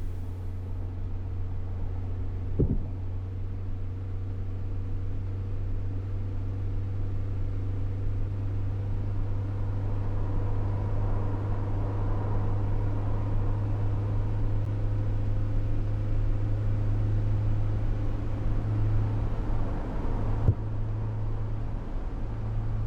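Mercedes W906 bus engine in Fernbus Simulator held at full throttle, a steady loud low drone that stays constant throughout with a brief knock near the start.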